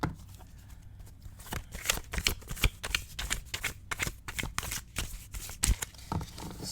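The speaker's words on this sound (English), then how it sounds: "So when I shuffle," Tarot cards being shuffled by hand, an ASMR-style riffle of a split deck, with dense rapid crisp flutters and taps repeating close up throughout, no voice present.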